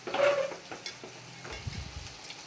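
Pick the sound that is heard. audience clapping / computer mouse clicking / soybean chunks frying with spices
soybean chunks frying with spices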